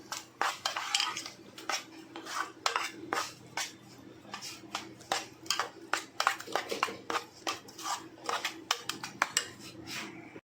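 A spoon stirs and clinks against a bowl as coriander, ginger and chillies are mixed into a rava and besan instant dhokla batter. The scraping and tapping come close and rapid in an uneven rhythm, with no talk.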